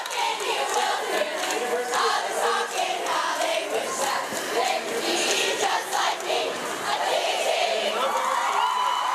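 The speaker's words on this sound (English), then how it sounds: "There's a great crowd here today, Lynn." A large outdoor crowd cheers and shouts steadily at the University of Alabama homecoming parade, a dense continuous roar of voices with whoops rising throughout.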